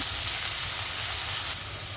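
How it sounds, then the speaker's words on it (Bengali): Onions, chillies, peas and carrots fry in a pan, giving a steady, loud sizzle with some stirring underneath and no voices. "আমি এখন মটরশুঁটি আর গাজর অ্যাড করে দিচ্ছি। হালকা না নেড়ে নিব"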